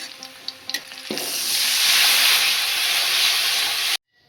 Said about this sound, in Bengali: এবার আমি গ্রেভির জন্য তৈরি করা ঘোলটা এর মধ্যে দিয়ে দেবো